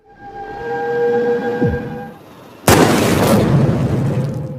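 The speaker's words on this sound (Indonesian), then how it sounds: "Ternyata peluru yang diambilnya adalah peluru yang sudah dimodif sebelumnya oleh Bob Lee agar meledak di tempat" A tonal hum with a descending whine, then a sudden loud explosive burst from a rigged sniper bullet that sustains as a roaring, crackling blast.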